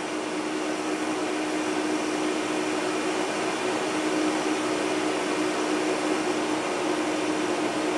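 Dell C1100 server fans roaring steadily just after power on, a constant broad whooshing hum with a faint tonal whine, close and even throughout with no pauses.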